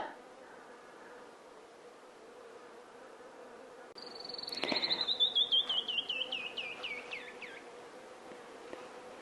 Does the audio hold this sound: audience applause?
no